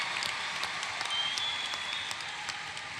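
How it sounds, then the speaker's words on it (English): A high school graduation audience applauds the graduating class, broad sustained clapping from a large crowd, moderately distant and fairly even throughout. "Let's give them another round of applause"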